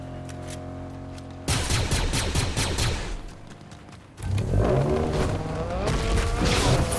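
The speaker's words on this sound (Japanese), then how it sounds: "めっちゃ車の音するけど" Car engines roar and rev in a Fortnite Zero Build match, loud and close, with bursts of gunfire crackling over them and a sharp jump in intensity partway through.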